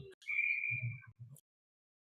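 A referee's whistle blows at an ice hockey game, a single steady sustained blast heard at a distance, with a low rumble of activity beneath it.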